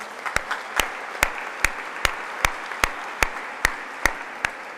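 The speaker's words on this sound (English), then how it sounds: "Dr. Karat deserves a big round of applause for the vision" Audience applause at an International Day of Peace event, heard as slow, evenly spaced loud claps in a steady rhythm, more like a synchronized clap than a scattered ovation, close and alone without talk.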